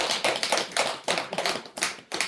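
An audience at a Buddhist temple Sunday sermon breaks into a burst of hand clapping, a dense, close run of claps with a few uneven pulses that fades within a couple of seconds, with no talking.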